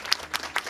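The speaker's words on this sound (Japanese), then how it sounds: "力強い拍手をありがとうございます。" Applause from the audience at an international students' Japanese speech contest in Ehime, heard as a brief, fairly quiet burst of clapping with a few sharper claps standing out.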